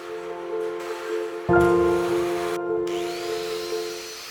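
A grinder working on a small piece of pipe, a sharp abrasive whine that bursts in loud partway through and holds steady, close by, with brief dropouts.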